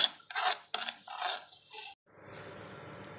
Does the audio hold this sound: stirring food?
yes